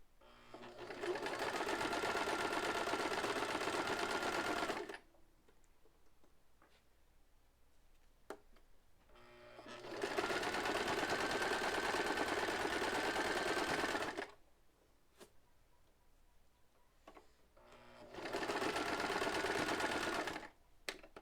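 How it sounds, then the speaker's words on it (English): A sewing machine stitching forward and back-stitching in three loud, sustained bursts separated by quiet pauses, close up. "And we're gonna sew. Sew and back sew."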